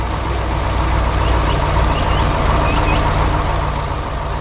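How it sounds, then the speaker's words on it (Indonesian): An animated red truck drives slowly through a green farm field, a steady low engine rumble under a broad hiss that stays constant and fairly loud the whole time. "Truk merah berjalan perlahan di tengah ladang hijau."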